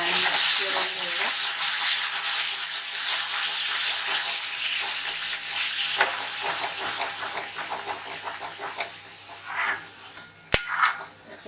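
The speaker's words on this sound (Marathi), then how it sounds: "आता हे छान मसाला आपण भाजून घेऊया." Spice masala mixed with whisked yogurt sizzling in oil while being stirred, a loud, dense frying hiss with scraping and spoon clinks, ending in a sharp metallic knock.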